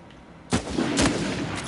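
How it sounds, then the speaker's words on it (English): A heavy gunshot booms in a shooter video game, a loud close blast with a second report and a sustained rumbling echo that fills the rest of the moment. "He shot me"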